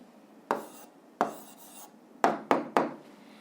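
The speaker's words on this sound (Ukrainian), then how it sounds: "Пишемо відповідь." A pen writes an answer on paper during a physics lesson, giving five short scratchy strokes in an irregular rhythm, close and fairly quiet, with no talk.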